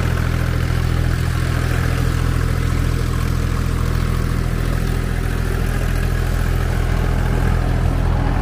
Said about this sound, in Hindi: बिल्कुल नया ट्रैक्टर है